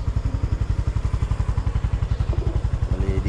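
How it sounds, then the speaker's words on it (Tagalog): A motorcycle engine idles steadily nearby at a bus terminal before dawn, its rapid even pulsing thump loud and continuous with no talk over it. "Dito ko lang to iiwan yung motor."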